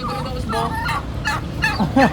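Loud, close chicken calls repeat in quick bursts, harsh and honking, with a couple of gobble-like squawks toward the end.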